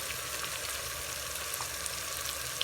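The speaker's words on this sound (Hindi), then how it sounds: "अब मसाले को भून लेते हैं अच्छे तरीके से।" Spice masala with tomatoes and turmeric fries in a pan for a fried potato dish, a dense, steady sizzle heard up close with a few faint stirring ticks.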